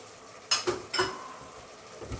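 Red lentil soup being stirred in a pot, a few clinks and scrapes of a utensil against the pot in close, quick succession, then quieter.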